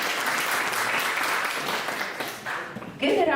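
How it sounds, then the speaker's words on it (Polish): Applause from the audience at an Independence Day gala evening, a steady clatter of clapping that fills the hall and fades slightly before a brief swell at the end. "Zapraszam bardzo serdecznie."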